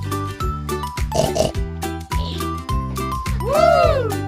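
A pig animal toy gives a series of short, repeated oinks and grunts with bright electronic jingles between them, close and fairly loud, with no talking.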